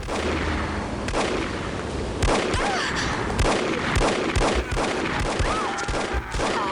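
Combat gunfire in the spy shooter The Operative: No One Lives Forever, a steady clatter of loud rapid shots and impacts with occasional heavier bangs, continuous and close with no talking.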